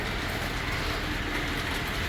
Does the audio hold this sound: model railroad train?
yes